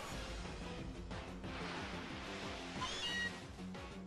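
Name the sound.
Meowth (Mauzi) cry in Pokémon Ultra Sun video game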